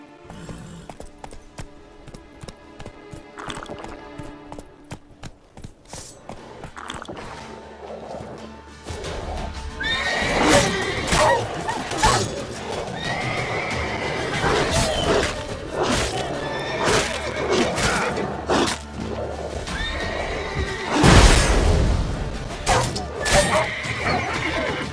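Roach, a video game horse, whinnies and neighs amid a busy game soundscape, with hoof clatter and scattered crashes; the loudest neigh bursts out near the end, and a voice speaks briefly early on.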